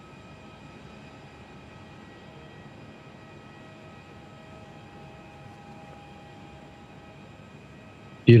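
Air Mauritius Airbus A330-900 arriving at Perth airport, heard as a faint, distant, steady jet whine and low rumble with sustained tonal hum, ending in a sudden loud bump.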